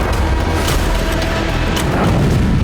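A drone attack on a military complex in Crimea sets off an explosion: a loud, sustained booming roar with dense crackling rumble, and no voices over it.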